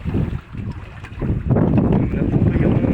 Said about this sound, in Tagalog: pagsakyan pa natin ng bangka